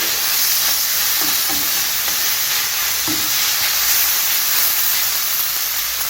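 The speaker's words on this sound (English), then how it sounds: "So now we're just going to give this a quick stir." Beef stir-frying in a hot pan for lo mein, a loud, steady sizzle and hiss throughout with a few soft scrapes of stirring, close and continuous with no voices.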